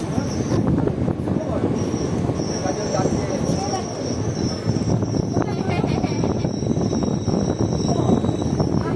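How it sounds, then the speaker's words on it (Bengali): The Kaviguru Express, a short thirteen-coach train, rolls into platform three with a heavy rail rumble and high wheel squeals, loud and continuous, with some talk underneath. "আর আমাদের ট্রেন এসে পৌঁছেছে তিন নম্বর প্ল্যাটফর্ম"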